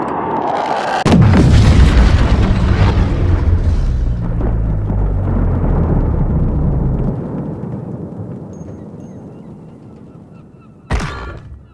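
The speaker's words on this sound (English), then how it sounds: "Place the charge. Detonate the target." A bomb charge detonates in a Call of Duty search-and-destroy match: one loud, close boom that rolls into a long, slowly fading rumble, then a sharp crack near the end.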